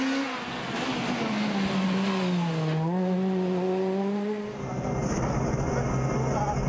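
A rally car driven flat out on a special stage of the Prime Yalta Rally in Ukraine, its engine revving hard and shifting pitch through the gears, loud and close, then fading into a rougher roar.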